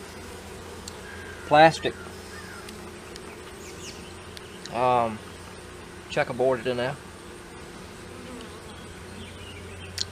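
Honey bees in a hive box give a steady low buzz close by, under a voice speaking in several short bursts.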